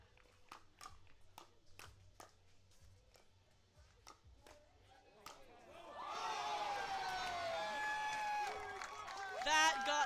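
Crowd at a professional team pickleball match in San Clemente cheers loudly after several crisp paddle pops and footsteps, a sustained swell of voices and whistles rising midway and building to the end, with a commentator talking over it.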